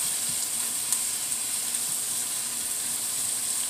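Tomato hits a sizzling frying pan, giving a constant bright hiss with faint stirring ticks, steady and close with no voices.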